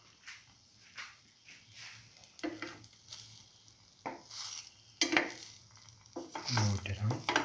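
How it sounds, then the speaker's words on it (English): French toast, bread dipped in egg mixture, fries in a pan with soft intermittent sizzling, broken by clinks and scrapes of utensils and pans and a few louder bursts of movement near the end. "Now dip the next bread piece in the egg mixture and let it fry."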